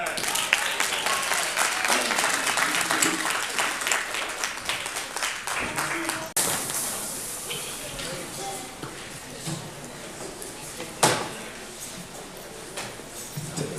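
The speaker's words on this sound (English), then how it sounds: "make some wonderful noise for our young people" An audience at a 2018 Black History event in Akron applauds for young performers, a dense burst of clapping that gradually thins and fades, with a few scattered louder claps and background voices.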